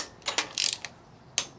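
A torque wrench gives a few sharp ratcheting clicks, including one quick rattling run of clicks, while bolts on a Briggs & Stratton engine are tightened. The clicks are close and loud against a quiet background.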